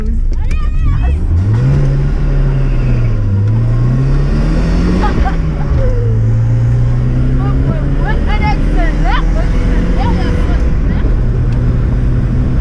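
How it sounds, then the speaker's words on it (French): A car with a welded differential revs hard for a burnout start, its engine whining loud and steady with rising and falling pitch throughout, while people shout and talk over it. "on fait un démarrage américain"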